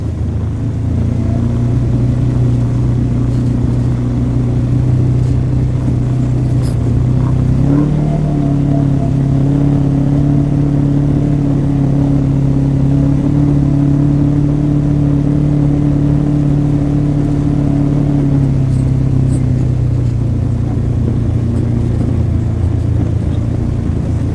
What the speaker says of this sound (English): We're gonna go drive right down through here